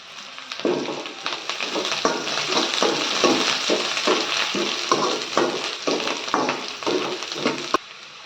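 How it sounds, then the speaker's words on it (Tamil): Onions frying in a pan with green chilies and curry leaves for a Tamil-style macaroni, a steady loud sizzle broken by repeated stirring scrapes, close and continuous with no talking. "வெங்காயம் நல்லா ஃப்ரை ஆகிடுச்சு."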